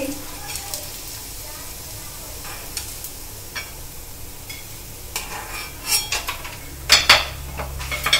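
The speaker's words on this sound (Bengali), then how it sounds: "আবার দুটো ব্রেড রোল আমি কিন্তু তেলে দিয়ে দিচ্ছি" Bread rolls sizzle in hot oil with a continuous crackling fry, punctuated by scraping and clinks from a utensil against the pan that grow louder near the end.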